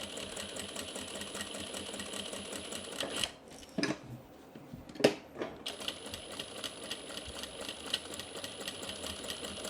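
A sewing machine stitches fabric for a tote bag in a fast, even mechanical chatter that stops briefly in the middle, then resumes with a couple of sharp clicks.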